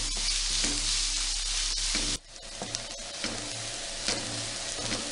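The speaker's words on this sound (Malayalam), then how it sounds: "നന്നായിട്ട് ഇളക്കി കൊടുക്കാം. ഇതൊരു സബോള ബ്രൗൺ കളർ ആവണ വരെ വഴറ്റിയെടുക്കണം." Chopped onions sizzle steadily in hot oil for an Achari chicken, with intermittent scraping strokes as they are stirred until brown; a brief dip in the frying hiss partway through, no talking.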